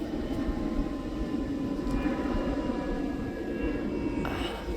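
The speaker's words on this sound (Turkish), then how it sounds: "uçak gidiyor." A steady low rumble of an airplane engine drones overhead, continuous and fairly distant, with no voices.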